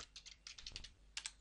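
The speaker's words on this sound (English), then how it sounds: "in this first row, I'm going to type" Fast, light keystrokes on a computer keyboard while entering text into an Excel spreadsheet, a steady close patter of clicks with no voice.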